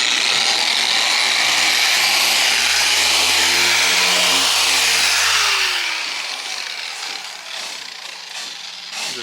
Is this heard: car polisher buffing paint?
yes